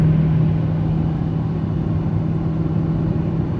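A Nissan/Infiniti car in drive sport accelerates with a steady mid-pitched engine drone, continuous and close, without clear breaks between upshifts, and no one speaking.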